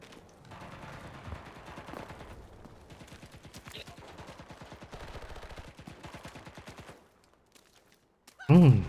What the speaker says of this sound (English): I'm about to call in an artillery strike on the point.